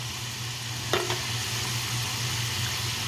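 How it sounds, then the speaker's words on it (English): A tablespoon of butter melts in a simmering rosemary mushroom sauce in a pan, giving a steady, close sizzle throughout, with one brief clink of a utensil partway through. "We're gonna add 1 more tablespoon of butter."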